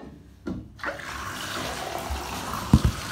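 Water runs into a bathtub as a steady rushing flow, with a few louder splashes and thuds breaking through near the end and no one speaking.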